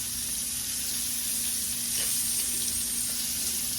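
Onions sauté in a little leftover oil in a pan, giving a steady, close, even sizzle with a faint soft stir near the middle and no talking.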